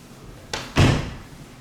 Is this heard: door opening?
yes